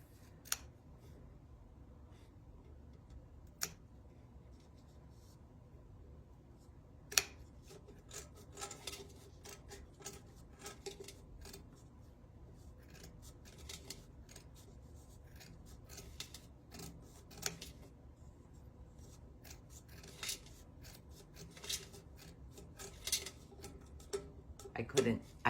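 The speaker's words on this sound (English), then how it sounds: "Now I need a trim. I need to trim this off." Scissors snip tinsel on a handmade tinsel snowman craft. There are sparse, faint clicks and cuts, with soft rustling and handling noise in between, all close up in a quiet room.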